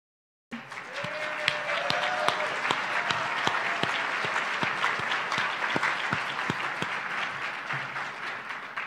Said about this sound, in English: please hold your applause until the end of the forum